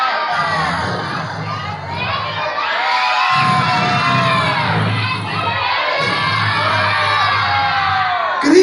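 A large audience of children shouts and cheers loudly at a live show, a sustained roar of high voices that swells and dips in waves with brief pauses between bursts.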